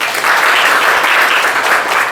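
Loud, close applause fills a 14th April celebration held in an English-speaking class: a packed, continuous wash of many hands clapping with no pauses, briefly and without speech.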